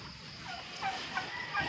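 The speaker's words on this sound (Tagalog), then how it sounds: "Saan na naman dumaan yung pabo ngayon?" A turkey gobbles on a small mini farm, a faint, somewhat distant rattling call with brief bursts rising over a steady background hiss.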